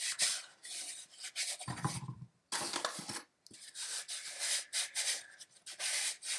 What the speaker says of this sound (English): you just cover all the surfaces